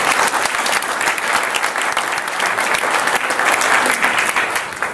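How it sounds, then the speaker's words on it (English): Audience at a Save the Tides town hall applauding in a room, dense steady clapping filling the whole stretch at close range without letup. "So give yourselves a round of applause."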